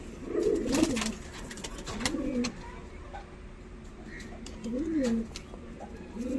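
Pigeons coo in deep, rolling phrases in a small group, several calls rising and falling near the listener, while someone talks between and over them.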